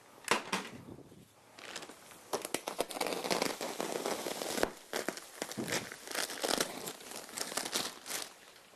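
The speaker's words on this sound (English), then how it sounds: "This is a much better knife to use to cut the rock swill." Olfa utility knife slicing through rock wool insulation, a steady crinkly, tearing rasp close by with bursts of crackle, running almost continuously without talk.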